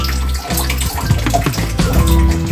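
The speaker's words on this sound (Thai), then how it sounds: "เปิดก๊อกน้ำให้น้ำไหลนะคะ" Water runs from a tap into a basin in a school restroom, a loud close splashing stream that continues throughout the short stretch.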